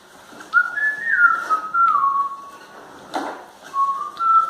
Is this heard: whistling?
yes